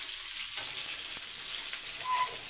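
Onion and yellow pumpkin sauté in a pan with a soft, even sizzle and faint stirring sounds, quiet and continuous, with no talking.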